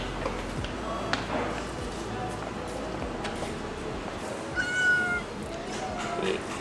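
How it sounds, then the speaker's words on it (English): A cat meows close to the camera on a doorstep in Istanbul, with a few short calls over street ambience and people talking nearby. "the best part is this cat, which just started to like smell my camera and everything else"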